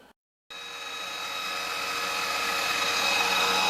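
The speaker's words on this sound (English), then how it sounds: "And now we're gonna have to drill a hole here" A power drill boring a hole in a metal joystick base part for a force trim mod on a Virpil VPC MongoosT-50CM2 base, a steady rising whine starting after a brief silence and growing louder, close and continuous.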